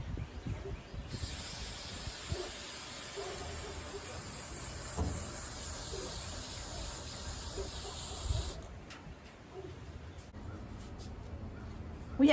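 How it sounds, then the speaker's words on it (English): One long, continuous hiss of white aerosol spray paint coats the outside of a jar, close and steady for several seconds before stopping, followed by quiet handling noises. "Let's give the outside a spray."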